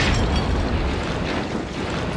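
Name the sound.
grenade explosion in RoboCop 1987 movie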